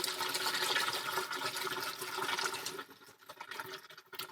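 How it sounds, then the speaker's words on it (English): Cooked pasta and its water pour out to drain, a loud, rushing, splashing gush close by that trails off into smaller trickles and drips near the end. "Once the pasta has finished, we're going to go ahead and drain it."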